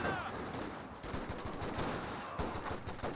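Infantry rifles and machine guns crackle in a Company of Heroes 2 battle, with dense, continuous rapid gunfire that stays loud and busy throughout, and no one talking over it.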